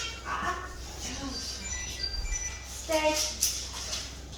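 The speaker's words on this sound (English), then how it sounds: "We do have some puppies that just came in, so that's a good distraction for stay." Puppies bark and yip faintly in the background with a few scattered high yelps, under a quiet room where a person speaks briefly.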